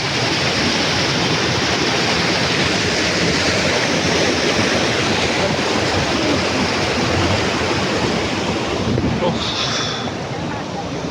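The Gundicha Ghagi waterfall gives off a loud, continuous roar of falling water. Wind buffets the microphone throughout and may mask faint voices.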